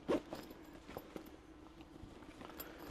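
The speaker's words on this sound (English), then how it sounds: "And then you have your main zipper. So let's go ahead and open that one." A main zipper on a BlackVoyage compression backpack is pulled open, giving a faint, quick rasp at the start followed by soft handling rustles in a quiet room.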